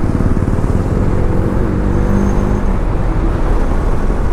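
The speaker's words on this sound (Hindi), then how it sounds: "तो अभी राइड जो बाइक है वही चला रहा है" A motorcycle rides a mountain road in a hill area near Sach Pass, with a steady, loud engine drone and wind rumble filling the whole stretch and no breaks.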